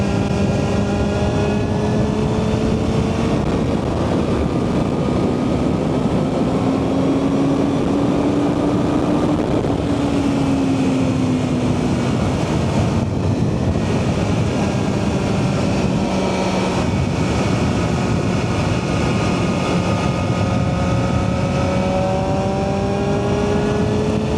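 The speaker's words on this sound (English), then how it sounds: "this engine revs so fast. It gets up there much quicker" A BMW M1000RR superbike engine holds a loud, steady high-rpm roar close up, its pitch rising and falling slightly as the revs sweep, with no voices.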